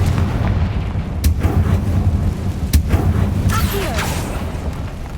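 Explosive spell blasts go off in Hogwarts Legacy, with loud booming cracks and rumbling explosions over a dense, busy game soundscape.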